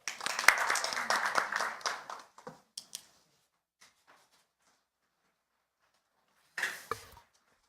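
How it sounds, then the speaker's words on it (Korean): Applause from the audience at a Korean parliamentary forum on internet regulation policy, a dense burst of clapping for about two seconds that thins to scattered claps, then silence and a short final flurry. "뜨거운 박수 부탁드립니다"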